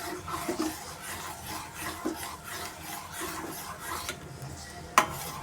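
A spoon stirs flattened rice in a pot for doodh poha, giving repeated soft scraping strokes in a steady rhythm, close and quiet, with one sharp metallic knock near the end.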